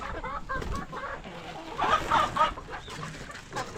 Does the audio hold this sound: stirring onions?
no